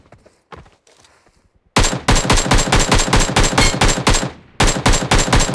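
Automatic gunfire in a battle royale video game, loud rapid bursts of shots after a quiet moment of faint talk, with a short pause before the firing resumes.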